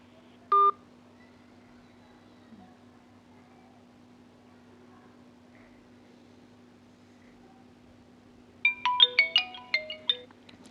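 A phone dials a lawyer, with a single keypad tone near the start, a long stretch of quiet line hum, then a fast run of bright electronic ringing tones near the end, all heard clearly without talk.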